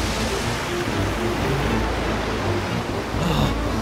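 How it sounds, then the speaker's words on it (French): Continuous roaring surge of heavy storm surf, loud and close, with a broad hissing wash that swells slightly near the end. "Les vagues sont très grandes."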